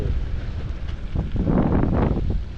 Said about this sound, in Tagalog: may hangin-hangin mga amigong 30-50 ang bugso